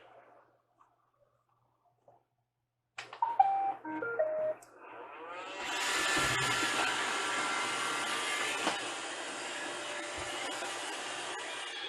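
A Roomba robot vacuum starts up after a few clicks and beeps, then a steady whirring hum of its motor and brushes runs continuously on a rug over a ramp inside a toy hauler.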